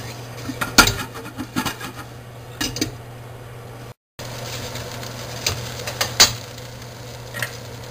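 Irregular light clattering and rattling of meatballs rolling in a shaken metal frying pan, in bursts, over a steady low hum.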